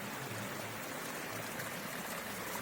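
Water flows steadily, a constant rushing like a small stream, fairly quiet and unbroken throughout.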